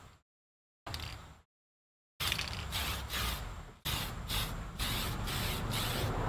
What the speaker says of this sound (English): and then I can spray my black.